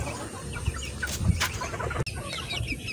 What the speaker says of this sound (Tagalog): So, eto na mga manok,